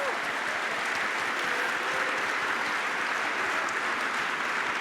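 An assembly in a Swiss church plenary claps together, a continuous, even roar of applause filling the room at moderate level with no voices standing out.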